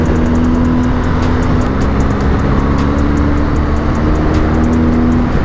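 A BMW R 1250 GS motorcycle's exhaust drones loud and steady while out on a tour, a constant deep engine rumble with no pauses or other sounds.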